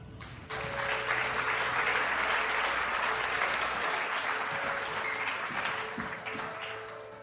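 Conference attendees applaud panel guests being introduced, a full, even wash of many hands clapping that starts abruptly, holds steady for several seconds and then begins to fade, without clear talk over it.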